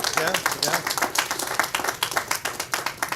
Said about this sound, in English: Let's do the clap.